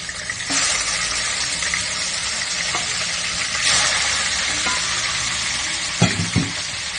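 Oil hisses and sizzles steadily as fish fry in a pan, loud and close, with a few brief knocks and scrapes toward the end.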